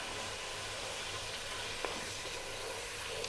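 Chopped onion and garlic sizzle steadily in a hot pan for beef biryani, a continuous close broadband hiss with faint crackles and one brief clink partway through.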